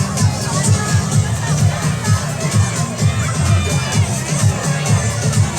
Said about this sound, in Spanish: se nos escucha el grito de las chicas